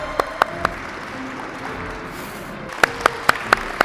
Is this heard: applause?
yes